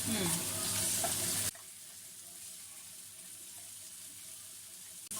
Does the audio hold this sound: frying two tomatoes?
yes